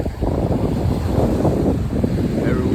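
Strong wind buffets the microphone by the sea in Canada, a loud, gusty low roar that rumbles without pause.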